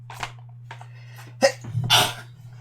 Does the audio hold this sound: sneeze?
yes